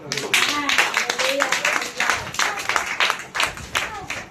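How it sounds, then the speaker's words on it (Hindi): Loud, sustained clapping from a church congregation during live preaching blends with talk and cheering voices throughout, the applause swelling and dipping in waves. "जोरदार तालियां बजाओ"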